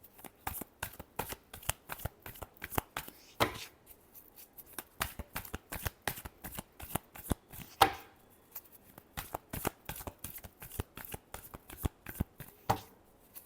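Tarot cards being shuffled by hand, a long run of crisp riffling flicks and taps in uneven rapid bursts with short pauses, close and moderately quiet, with no talking.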